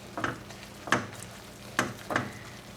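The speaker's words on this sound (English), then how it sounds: "Now we're just going to give this a good mix." Spices (cumin, allspice and cloves) being stirred in a pan, with a few distinct scraping strokes spaced unevenly over a soft sizzle, close and fairly quiet.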